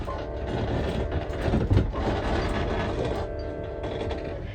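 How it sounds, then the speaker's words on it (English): Squeaks, bangs and rattling inside a moving caravan, a continuous clattering, creaking jumble with one louder knock partway through, close and steady with no talk. "Lots of squeaks and bangs and things moving and rattling,"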